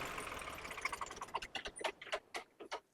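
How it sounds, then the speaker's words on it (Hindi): A 2014 New Holland 3630 tractor with a rotary pump runs at idle, its engine giving a steady throb that breaks into uneven, rhythmic knocking pulses toward the end. "बहुत शानदार आवाज ट्रैक्टर की"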